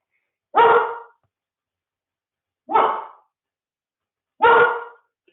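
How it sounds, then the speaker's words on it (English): Three separate dog barks ring out at steady intervals, each short and fairly loud, with silence in between. "So he'll just bark in the background"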